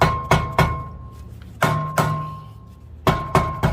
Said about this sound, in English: I'm just gonna get a soft mallet hammer. Just bang it on the back end here.